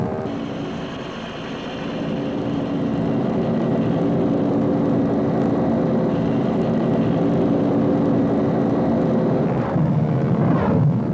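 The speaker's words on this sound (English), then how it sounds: "the Huey became one of the distinctive sights and sounds of the Vietnam War" A Huey military helicopter from the Vietnam War era in flight gives a loud, steady engine and rotor drone that holds throughout and swells slightly toward the end.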